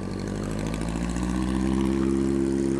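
Big motorcycles idle loudly and steadily in a parking lot, among them Kawasaki Z1000, ZX636 and ZX12 models, Yamaha R6s and a Ducati Diavel, with the engine note rising slightly as the throttle is blipped toward the end.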